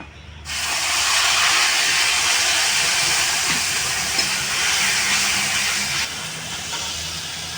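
Tomato paste hits hot oil in a pan with dried red chilli and garam masala for a ripe jackfruit curry, giving a sudden loud, steady hiss that holds strong for several seconds, then eases slightly, with no talking.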